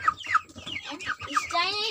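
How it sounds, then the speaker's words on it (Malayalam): Backyard chicks peep and cluck up close, a few quick separate calls and then a longer wavering chirp at the end, with no one speaking. "നിങ്ങൾക്ക് അന്യ കോഴിക്കുഞ്ഞുങ്ങൾ ഇഷ്ടമായിനാ?"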